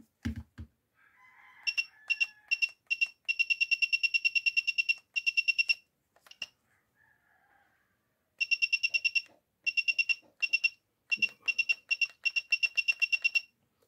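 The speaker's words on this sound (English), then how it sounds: "So we have now this remote control buzzer." DIY infrared remote control buzzer built with a VS1838 receiver, sounding in rapid bursts of sharp two-tone beeps that start and stop with pauses between, clear and close.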